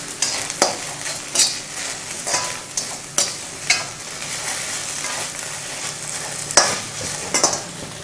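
Okra stir-fries in a pan with salt, giving a steady close sizzle broken by repeated scraping stirs from a utensil at irregular intervals, with no one talking.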